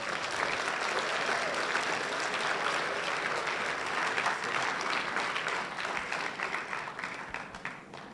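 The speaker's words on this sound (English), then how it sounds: "Let's give them a round of applause" An audience claps for newly inducted National Honor Society members at a school ceremony, a full round of applause that holds steady and then thins and tapers toward the end.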